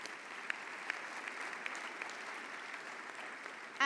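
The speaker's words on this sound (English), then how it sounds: "Ladies and gentlemen, a big round of applause for our panel." Audience applause for a panel at a summit opening ceremony, a fairly quiet, even patter of many hands from a distance that holds steady throughout.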